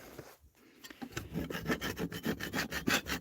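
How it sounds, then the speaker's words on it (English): Hand sanding of bubbled, chemically stripped paint on a wooden cabinet door outdoors, a steady rhythmic back-and-forth rasping, close and fairly quiet, with strokes repeating several times per second. "sand this off here where it's bubbled"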